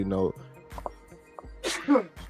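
A single sneeze bursts out between stretches of a person talking, close and fairly loud.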